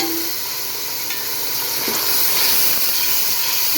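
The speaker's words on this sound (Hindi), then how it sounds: "अच्छी तरह इनको भूनेंगे।" Green chillies and tomatoes fry in a hot pan with a steady, close sizzle and hiss that runs throughout.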